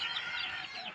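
Chicken clucking close by for about a second, a steady, busy run of bird calls with no talk over it.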